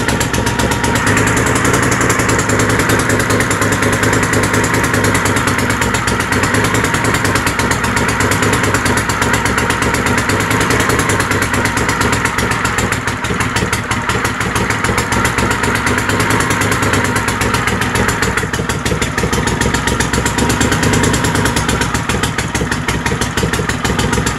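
A Troy-Bilt GTX 20 garden tractor engine runs steadily throughout, a loud, close, continuous mechanical drone with constant vibration and no pauses.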